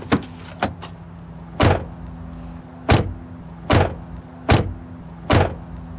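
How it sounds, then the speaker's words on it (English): A Police Interceptor Utility door slams shut several times in a row, each thud carrying a loose window rattle, with steady idle hum underneath and no talking. "when you close it, you can hear an extra rattle, almost like it would when the door or when the windows roll down"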